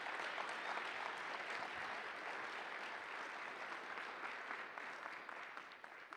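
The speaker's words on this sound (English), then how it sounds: "let's give them another round of applause for having the courage to do that" An audience at a Snow College convocation applauds the Opportunity Quest finalists, a sustained wash of clapping from a crowd that holds steady and eases slightly toward the end.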